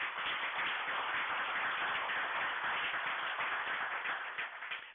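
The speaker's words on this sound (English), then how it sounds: "have everyone give her another round of applause" A round of applause at a land trust meeting, a steady wash of many hands clapping together, continuous and fairly close, tapering off slightly at the end.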